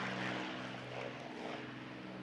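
A WWII Spitfire propeller aircraft passes outside at Goodwood, giving a steady, faint engine drone that is distant and even over a couple of seconds.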